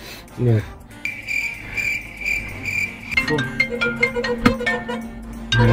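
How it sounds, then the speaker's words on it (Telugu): A phone rings with a bright, repeating electronic tone, steady at first, then shifting into a quicker chirping melody, loud and close. "ఫోన్ వస్తుంది"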